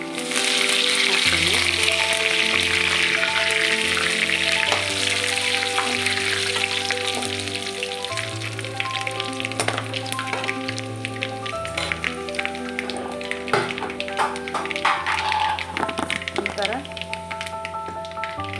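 Garlic cloves and curry leaves hit hot oil already spitting with mustard seeds, a crackling sizzle that is strongest at first and then settles into a steady frying hiss beneath background music.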